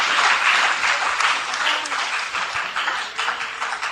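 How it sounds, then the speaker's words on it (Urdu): An audience applauds a team at a bait bazi poetry contest at a school in Aurangabad, a loud, dense burst of clapping that slowly fades over several seconds. "زوردار تالیاں بجائیے اس ٹیم کے لیے"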